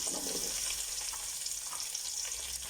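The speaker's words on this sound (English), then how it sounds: "To this, I'm going to be adding in my onion" Chopped onion hitting hot oil with dried chili in a pan for mutton bunny chow with thick gravy, a steady close hiss of frying with faint crackles and no voices.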